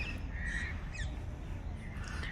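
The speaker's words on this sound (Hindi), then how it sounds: "यहाँ चारों तरफ चिड़ियों की आवाज़ें हैं" Birds squawk and caw intermittently around the Old Fort (Purana Qila) in Delhi, with crow-like calls scattered over a quiet outdoor background.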